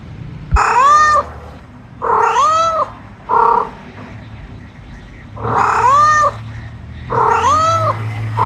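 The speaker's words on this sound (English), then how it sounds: "This was the sound of Dell Latitude." Dell Latitude 7480 laptop speakers playing a recording of a cat meowing, five drawn-out yowls in separate bursts with short pauses between, fairly loud and close with faint background hum.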